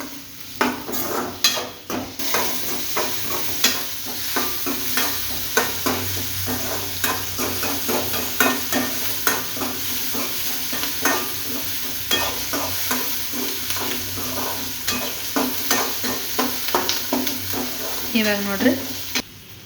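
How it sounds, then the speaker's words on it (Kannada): Onion and tomato being stirred and fried in a pan for a beans palya, with steady sizzling under repeated scraping strokes of a spoon against the pan, close and continuous throughout. "ಟೊಮೆಟೊ ಇವನ್ನ ಸ್ವಲ್ಪ ಕಲರ್ ಚೇಂಜ್ ಆಗೋ ತನಕ ಹುರ್ಕೋಬೇಕು"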